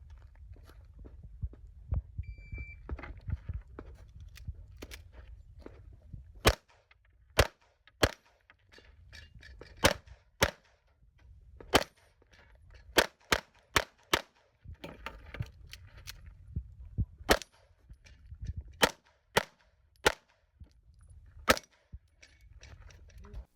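Gunshots crack during an IPSC competition shooting stage as sharp, loud single reports. Some are spaced apart and others come in quick strings, with low rumbling handling noise in the pauses and no talking.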